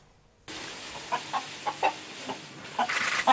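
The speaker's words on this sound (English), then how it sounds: "A rooster called Henry came within a hair's breadth of death this weekend" A rooster loose on a suburban street in Dunedin, New Zealand, gives a series of short, moderately close clucks at irregular intervals over faint outdoor background noise, ending in a quicker, busier burst.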